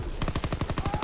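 Rapid automatic gunfire from Call of Duty WW2: about a dozen close, loud shots in a fast, even burst with no talk over it.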